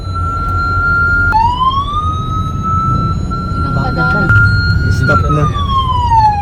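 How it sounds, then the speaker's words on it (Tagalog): Ambulance siren heard from inside the moving ambulance, a loud steady wailing tone that shifts pitch a couple of times over continuous road rumble, with brief speech from a person inside. "Hindi ko rin inakala na darating ang araw na sasakay ako sa ambulansya"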